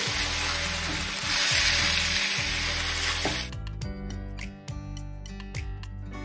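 Soaked bora rice frying in a pan, a loud steady sizzle for about three seconds that then drops to a softer crackle with scattered pops and scraping.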